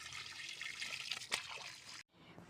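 Water gushes steadily from a pipe just opened outdoors in a hillside home, a continuous hissing splash that cuts off abruptly near the end before a fainter trickle resumes.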